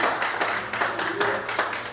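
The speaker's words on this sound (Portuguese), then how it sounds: "Dê fortes palmas, que Deus te abençoe. Mais fortes palmas" A church congregation claps together in a steady, rhythmic beat, dense and continuous, with a faint murmur of voices underneath.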